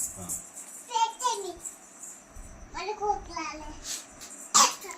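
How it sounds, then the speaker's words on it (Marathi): A young girl forces out a few deliberate coughs, close and fairly loud, mixed in with her childish chatter and babbling, with a sharp cough near the end. "बळच खोकून दाखवती पोरगी आहे का"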